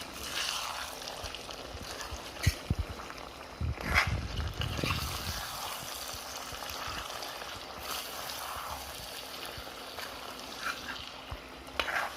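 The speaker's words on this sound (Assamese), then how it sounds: "দৈখিনি দি কিনে মই অকণমান টাইম ভাজি লৈছোঁ।" Curd frying in a pan for a chicken curry crackles steadily and close by, with a clatter of stirring around the middle and a few sharp knocks, and no talking.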